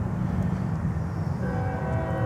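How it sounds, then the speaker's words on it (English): A train passes near Miami airport with a loud, close rumble, and partway through its horn sounds a sustained, steady tone over the rolling wheel noise. "Oh, can you hear it? There's a train coming."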